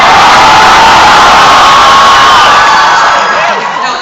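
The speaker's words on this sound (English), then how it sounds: "we want the crowd's rating in screams and horns of excitement" A convention audience at AVCon 2011 screams, whoops and cheers for ninjas in a loud, sustained roar of many voices that starts at full force and tapers off slightly near the end.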